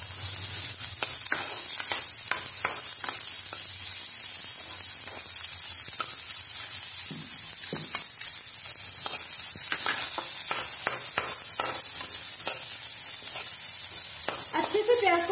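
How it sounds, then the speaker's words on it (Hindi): Finely chopped onions frying in a pan, after garlic, for a home-cooked palak paneer, with a steady loud sizzle and crackle throughout and scattered stirring scrapes and pops, no voices. "लहसुन के बाद अब आप इसमें डालेंगे बारीक कटी हुई प्याज"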